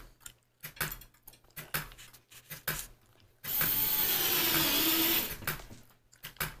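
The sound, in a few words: power drill driving screws into wall for shelves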